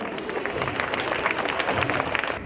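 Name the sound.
audience applause welcoming an English play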